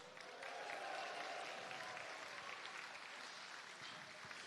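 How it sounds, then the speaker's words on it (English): Live audience at an Extreme Robots robot-combat show in Guildford, applauding and cheering in a sustained, dense burst of clapping with whoops mixed in, steady for several seconds at a fair distance. "give him a massive cheer, Steph Sugar!"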